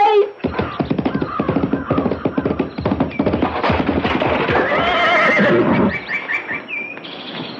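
A horse neighs and whinnies loudly, followed by clip-clopping hooves as it moves off, a sound effect in a radio horror drama.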